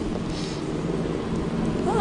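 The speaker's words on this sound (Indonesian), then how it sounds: "Gue pikir lo bakal nembus hujan." Rain falling steadily outdoors during a drama scene, a continuous soft hiss with some low rumble, no talking in the stretch.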